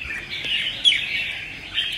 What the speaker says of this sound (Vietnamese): Giọng con này nhá, xoắn tít luôn anh em ạ. Giọng chuông xoắn.